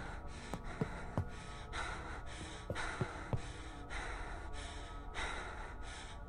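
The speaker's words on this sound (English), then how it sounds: "She's breathing heavy now" Heavy breathing from a female character in a zombie video game, a run of sharp gasping inhales and exhales spaced a second or so apart, close and unaccompanied by talk.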